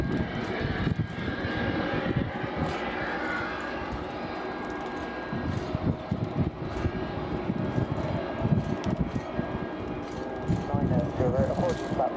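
A Vueling Airbus A320 at Cardiff Airport gives off a steady, fairly faint engine hum on the stand, with radio chatter and speech running over it the whole time.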